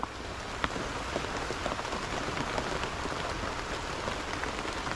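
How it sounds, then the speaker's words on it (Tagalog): Steady, dense rain pattering on a surface, constant and fairly close, with no voices. "Medyo umuulan."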